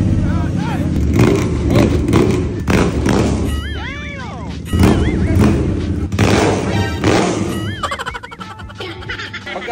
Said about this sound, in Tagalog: Tunog niya parang tawag ng iba, sewing machine eh. Pero ito, napakaganda na ng tunog.